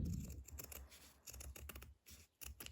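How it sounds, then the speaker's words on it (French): Scissors snip through a stiff cross-stitch fabric bookmark in a quiet room, a run of close, crisp cuts in irregular bursts with short pauses between strokes. "Je vais couper donc"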